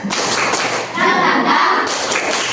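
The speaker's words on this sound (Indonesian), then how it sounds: "Tepuk semangat." A primary school class in Indonesia claps out the rhythmic 'tepuk semangat' chant in a classroom: sharp, close patterns of claps and thumps mixed with children's voices over a couple of seconds.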